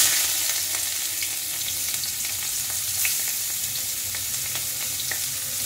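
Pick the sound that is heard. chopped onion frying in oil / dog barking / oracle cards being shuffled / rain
chopped onion frying in oil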